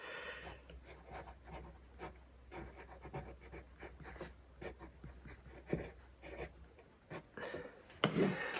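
A pencil scratches across a paper navigation chart in short, faint strokes, plotting an estimated position, with a quiet low hum beneath and brief pauses between lines.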